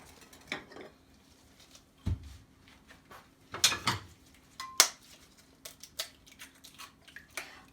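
A single egg being whisked in a bowl for pike fish batter: scattered, irregular clinks and taps of utensil on dish, with a few sharper knocks and quiet gaps between them, close and alone with no voices.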